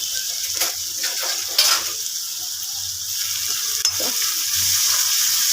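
Chopped onions sizzle and fry steadily in a pan for a simple tomato curry, with occasional scraping stir strokes; close, continuous hiss with no talking.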